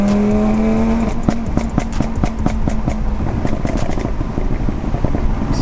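An Audi TT RS fitted with an Armytrix downpipe and a remap revs hard, its aggressive engine roar layered with a rapid series of sharp pops and crackles from the exhaust, loud and close throughout.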